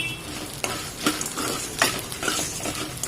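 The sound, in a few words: dried red chillies and pepper being stir-fried in a pan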